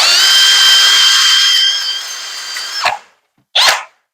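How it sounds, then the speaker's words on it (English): A power tool spins a rubber wheel against the fiberglass hull of a Yamaha Waverunner SUV during gel coat repair. It gives a loud, close, steady high whine for about three seconds, cuts off, then fires one short burst. "I don't want to dig my rubber wheel into this too bad, or that fiberglass is going to start shredding it."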